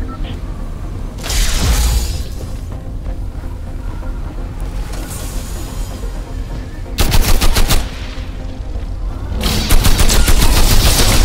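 Rapid bursts of automatic gunfire in the Fortnite video game, loud, close volleys crackling in two main clusters over a steady background din of game ambience.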